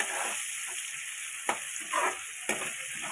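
Onion and tomato frying with curry leaves in a pan, a continuous close sizzle broken by a few sharp stirring clacks of a spoon against the pan.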